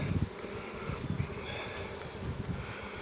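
Honey bees swarm over a frame pulled from a hive full of young bees and forest honey, a steady close buzzing drone with soft rustling bumps underneath and no voices.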